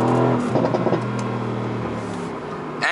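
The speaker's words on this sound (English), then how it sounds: "the car changes down automatically, and that crackle is just perfect." A 2018 Mercedes-AMG GT C engine revs close up, a loud throaty blare that settles into a steady drone before a brief crackling burst at the end.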